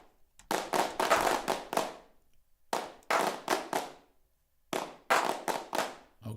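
Synthetic hand claps from the Hand Clap Studio VST plugin come in three separated loose clusters of rapid, slightly uneven claps, crisp and fairly close, with silence between the groups.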